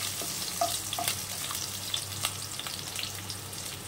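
Onion frying lightly in a pan with ginger, a soft steady sizzle with occasional light pops and a low hum underneath, close and moderate in level.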